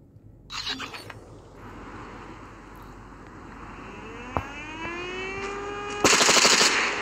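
Automatic gunfire in Call of Duty multiplayer: two rapid bursts, one near the start and one loud burst at the end, over a steady engine-like drone, with a single sharp shot in between.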